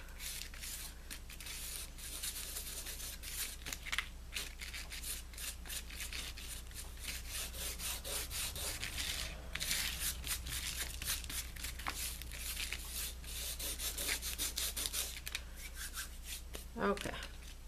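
Leftover glitter is rubbed by hand onto paper butterfly cutouts for a mini album, giving a close, dry, rasping scrub in quick repeated strokes over a low steady hum.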